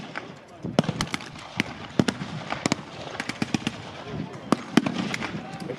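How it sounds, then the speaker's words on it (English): A machine gun fires blanks as covering fire during a WWII tank battle reenactment, with sharp irregular cracks and short bursts at mid distance over crowd and outdoor noise, while a voice talks throughout. "Great gunner here laying down, covering fire"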